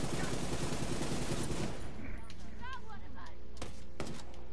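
Heavy gunfire in The Division 2 video game: a dense, loud burst of automatic fire that cuts off after a couple of seconds, followed by a few sharp single shots.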